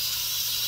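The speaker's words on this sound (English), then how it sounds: "and release the steam" Steam hissing steadily from a pot of boiling peeled potatoes on a stove as the lid is lifted, a brief continuous close hiss with no talk.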